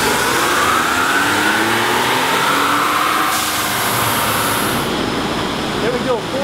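A 2017 Ford F-150 with the 3.5L EcoBoost engine roars on a dyno during a hot repeat pull, loud and continuous with rising engine tones, and talk over part of it.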